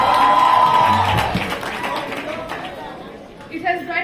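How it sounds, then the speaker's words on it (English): An audience at a secondary school debate final claps briefly for a speaker, the applause loud at first and fading out, with crowd chatter and talk mixed in. "Let's give her a round of applause."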